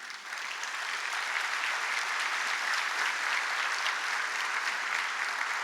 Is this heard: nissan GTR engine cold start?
no